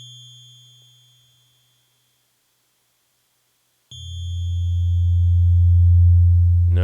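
A low tone from a Nord Micro Modular synthesizer fades away into silence, then a new deep tone with a two-second attack begins and swells gradually into a warm, sustained drone.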